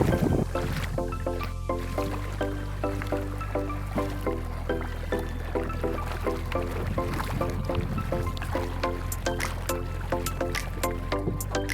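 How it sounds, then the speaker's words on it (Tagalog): A small wooden boat's motor chugs in a steady, regular rhythm with water sloshing and trickling nearby, continuous and fairly close, with no talk. "At dito na ibaba na nga namin yung bangka,"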